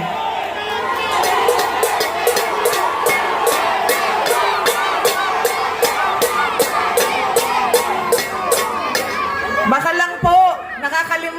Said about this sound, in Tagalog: Ang sigaw ng mga tao ay Duterte.